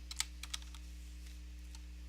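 A few quick keystrokes on a computer keyboard while entering Python code, light close clicks clustered at the start and then fading to sparse taps over a steady electrical hum.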